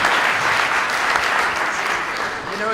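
An audience at a seminar claps in steady, sustained applause, a dense patter of many hands that holds evenly and tapers slightly at the end.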